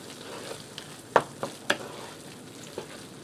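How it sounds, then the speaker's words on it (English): Salsa verde shrimp and rice with fresh parsley stirred in a pan, several distinct spoon scrapes and clinks over a faint low sizzle, close and quiet. "I'm going to give that a stir to get all them seasonings and flavors incorporated together."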